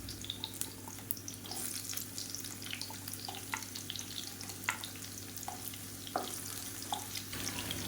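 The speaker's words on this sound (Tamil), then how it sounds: "இப்போ எண்ணெய் நல்லா சூடாயிருச்சு. இது வந்து ஒரு 10 பல் பூண்டு சேர்த்துக்கலாம்." Garlic cloves and large onions frying in hot oil for a red chilli chutney make a steady close sizzle, with scattered crackles and pops and a few light clinks, and no voices.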